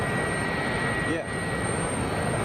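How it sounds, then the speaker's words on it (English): Etihad Airbus A330 departing, its jet engines making a steady, broadband roar that holds at a constant level throughout with little change, a distant wash of noise with no voices heard. "Okay, Etihad 330 going out, folks."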